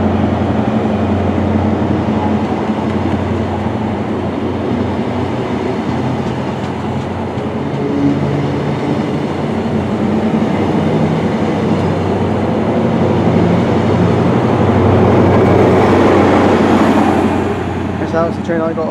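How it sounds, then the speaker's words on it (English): Class 43 HST cross-country train at Newton Abbot station, a loud continuous rumble and rail noise running the whole time with a swelling hiss near the end, as the train pulls through close by. "That was the 1804 cross-country service to Leeds via Bristol Temple Meads"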